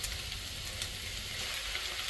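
Rice for egg fried rice being tipped into a hot frying pan on a hot plate, giving a steady, even sizzle that is fairly soft and close, with no talking.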